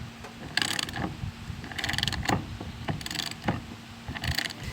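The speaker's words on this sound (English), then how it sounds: "I'm going to take my 3/4 inch socket and I'm going to flip the switch here to tighten mode," A ratchet fitted with a 3/4 inch socket tightens the steering wheel bolt on a lawn tractor, giving several close bursts of rapid metallic clicking, with short pauses between pulls and no talk.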